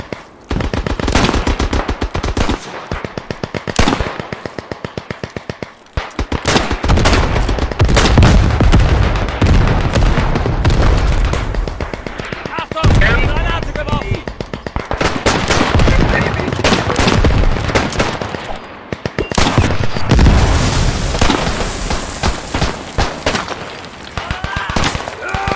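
Dense gunfire fills a battle in the video game Beyond the Wire, with rapid machine-gun bursts, rifle cracks and heavy booms overlapping almost without pause, loud and close throughout.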